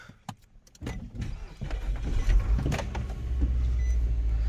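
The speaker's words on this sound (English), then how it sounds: "we're gonna go ahead and start the car" A Nissan Altima's engine starts after a few clicks and mechanical noises, then settles into a steady low rumble close by.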